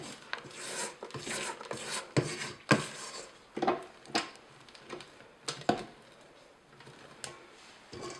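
Spatula scraping around a mixing bowl of cake batter while flour is being added, a run of rough rasping strokes with sharp scuffs, fairly close and alone with no talk.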